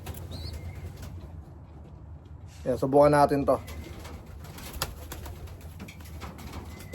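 A pigeon coos in a brief burst with a flutter of wings, while someone talks close by.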